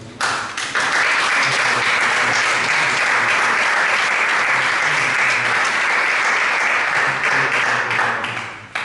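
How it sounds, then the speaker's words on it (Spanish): A church congregation breaks into loud, sustained applause at a Pentecost service, a dense wash of clapping that swells quickly and holds steady for several seconds before tapering off. "Dale un fuerte aplauso a Cristo."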